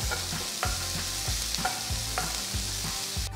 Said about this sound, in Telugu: ఇందులో చిన్నగా తరిగిన ఒక పెద్ద ఉల్లిపాయని కూడా వేసి వేయించాలి